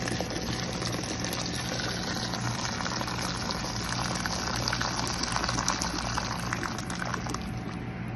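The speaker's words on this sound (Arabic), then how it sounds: "خلاص أضيف عليها الموية" Water pours into a pot of chicken and vegetable soup, a steady rushing, bubbling liquid noise that fills the whole stretch at moderate level with no talk.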